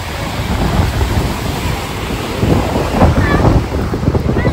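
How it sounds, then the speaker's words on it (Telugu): Sea waves break on a beach near Vizag as a heavy, continuous roar of surf, with strong wind buffeting the microphone and no clear speech. "ఇప్పుడు అలలు ఎక్కువ వస్తున్నాయి."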